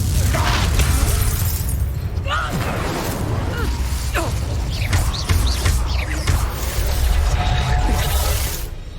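Confringo spell explosions in the Hogwarts Legacy video game, a dense, loud stream of booming blasts, shattering debris and whooshes layered with game effects, with a voice speaking over part of it.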